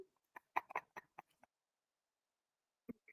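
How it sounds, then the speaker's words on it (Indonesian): A bird calls in the background, a run of short clucking, chirpy notes near the start, then a single brief call after a pause of silence. "Nah, ini ada suara burung ini."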